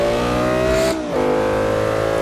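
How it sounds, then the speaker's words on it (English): An Audi engine in the racing game Forza 5 holds a loud, steady revving drone, briefly dips and shifts pitch midway, then resumes its sustained roar, close and continuous. "Listen to this Audi. This Audi sounds completely different than the other."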